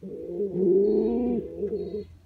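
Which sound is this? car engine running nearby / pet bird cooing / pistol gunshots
pet bird cooing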